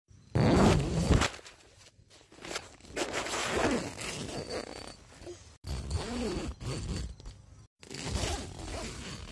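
A clothing zipper is pulled on a plush toy, a close rasping zip in several bursts separated by short pauses, with some handling noise.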